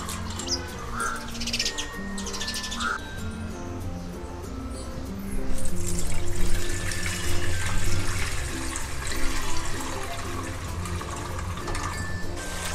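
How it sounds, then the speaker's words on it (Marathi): Water splashes and runs as soaked barnyard millet is rinsed, with birds chirping brightly in the background and a louder burst of sloshing midway. "2-4 पाण्याने स्वच्छ भगर धुवून टाकू"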